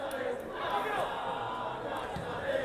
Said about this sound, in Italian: Si fanno sentire i tifosi dell'Agragas venuti qui a Mazara del Vallo per seguire la propria squadra